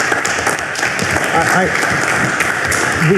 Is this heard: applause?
yes